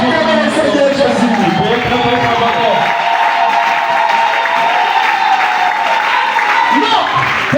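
A church congregation applauding and cheering for the Lord Jesus: loud, sustained clapping and crowd noise, with a voice and musical tones running over the top.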